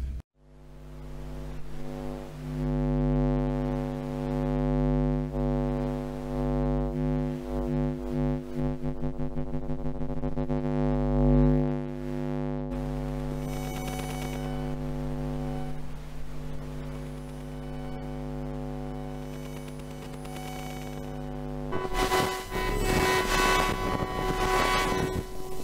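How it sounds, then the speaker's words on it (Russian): An FM generator device picks up electromagnetic interference from electrical appliances as a loud buzzing mains-like hum with layered tones that shift and pulse, then turns into harsher, brighter noise near the end, with no voices. "FM-генераторы, которые снимают нойз и всякие помехи с электроприборов"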